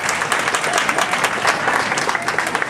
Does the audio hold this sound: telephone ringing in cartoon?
no